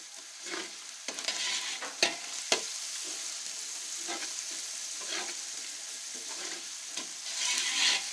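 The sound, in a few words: stirring chicken kabuli pulao with back of spoon on high flame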